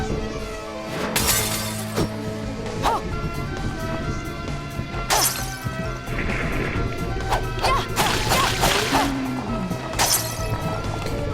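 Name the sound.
smashing lanterns in video game Bloodstained: Ritual of the Night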